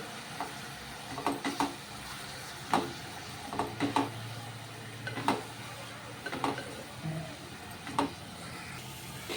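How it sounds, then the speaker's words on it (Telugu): Fenugreek leaves frying in oil for a fenugreek mutton dish, giving a soft, continuous sizzle with scattered spoon scrapes and clinks against the pan, close and moderately loud. "మెంతకూర ఇట్లా నూనెలో వేగాల బాగా వేగితేనే మనకు టేస్ట్ బాగుంటుంది"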